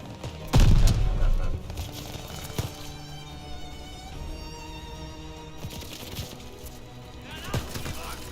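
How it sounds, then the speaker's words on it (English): Enemy gunfire in the WWII shooter Call of Duty Vanguard: one loud, close burst of shots near the start, then scattered sharper reports spread through a steady background din. "What are they shooting at?"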